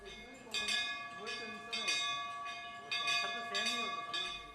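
Shiva temple bell fitted with a sensor, rung repeatedly in a temple in Madhya Pradesh, giving several bright metallic strikes at irregular intervals with ringing tones hanging between them, fairly faint against a steady background hum.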